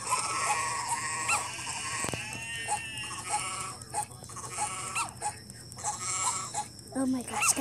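Sheep bleating in a video game, repeated wavering bleats rising and falling under a player talking over them throughout, with game sounds mixed in.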